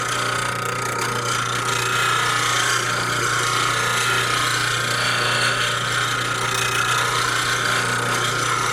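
A skew chisel bevel is ground against a sharpening wheel, making a continuous close, steady abrasive rasping and whine that holds even throughout, with no talking.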